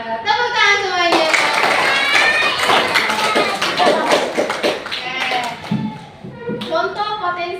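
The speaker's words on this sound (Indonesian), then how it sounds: "Tepuk tangan semuanya." Children in a classroom lesson clap their hands together in a dense burst lasting several seconds, with a voice speaking just before and some chatter as the clapping fades.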